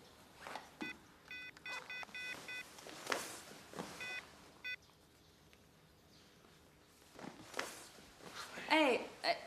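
Telephone keypad tones beep in quick rows as a call is dialed, mixed with faint rustles and footsteps in a quiet room, followed by a brief electronic chirp.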